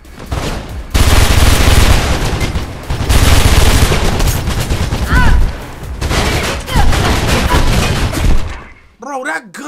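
A light machine gun in the game Mirror's Edge firing in long, loud automatic bursts broken by short pauses, with a voice heard briefly near the end.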